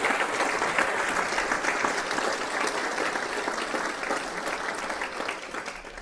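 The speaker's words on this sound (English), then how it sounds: "Please give them all a big round of applause." Steady, dense applause from an audience at a city State of the City address in Santa Ana, sustained evenly throughout without any voices.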